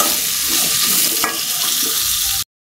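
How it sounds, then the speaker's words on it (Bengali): Potatoes frying in hot oil in a kadai, a loud, dense, continuous sizzle with a faint stirring scrape, close by, cutting off abruptly at the very end. "আলুগুলাও আমি এই কড়াই ভাজব।"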